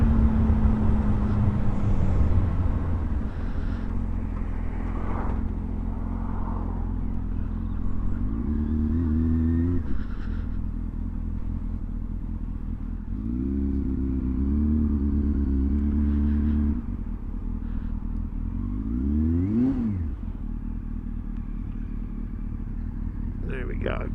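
A motorcycle on a cold day pulls in and slows down, its engine droning steadily up close with several brief rising and falling revs as it eases off, a voice talking over it.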